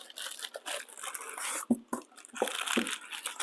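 Butcher-like packing paper crinkles and tears as a Stanley Bailey hand plane is unwrapped: quiet, close rustling in uneven bursts broken by a few short gaps.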